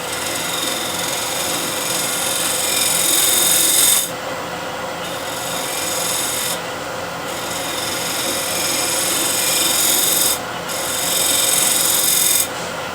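A negative rake scraper, tilted on edge, rasping steadily across a surface in long continuous strokes, loud and close, with brief breaks between passes and no talk.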